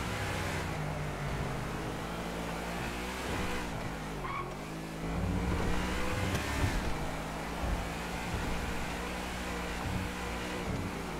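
A car in GTA V Online speeds along with its engine revving hard and tires squealing, the motor surging louder midway and staying steady near the listener.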